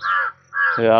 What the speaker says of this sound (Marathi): कावळा ओरडतोय.